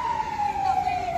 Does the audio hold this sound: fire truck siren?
yes